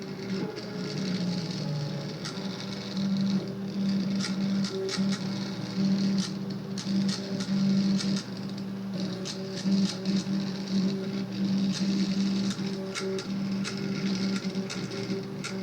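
Two stepper motors drive a small machine that lifts a pin, giving a steady whirring hum broken by rhythmic clicks and ticks, close and moderately loud with no speech.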